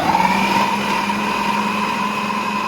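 A mixer grinder jar kneading dough, a steady high-pitched motor whine with a strong tonal hum, running loud and continuous without pause.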